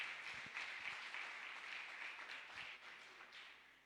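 A church congregation applauds together, a faint, steady wash of many hands clapping at a distance that slowly tapers off toward the end.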